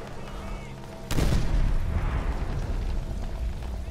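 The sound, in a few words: grenade explosion in video game Call of Duty World at War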